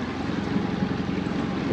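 Steady engine drone and water rush from a water taxi boat cruising the canals near Enkhuizen in the Netherlands, continuous and close, with wind buffeting the microphone and no talking.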